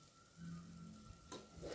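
Chicken biryani masala gravy frying in oil in a pan for donne biryani, a soft steady sizzle with a brief louder stir and scrape near the end.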